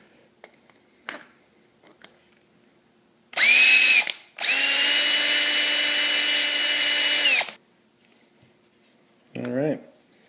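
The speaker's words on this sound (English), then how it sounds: "go ahead and drill from the bottom." A power drill boring a hole from the bottom of a kayak anchor piece, two loud steady whirring bursts, a short one then a longer sustained run, close up, with brief spoken words before and after.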